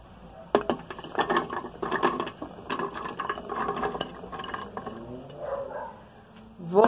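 A kitchen blender chops 300 grams of coconut pieces with their own water for homemade coconut oil, a rattling, clattering whir of hard chunks striking the jar in uneven bursts, fairly close, ending in a louder surge.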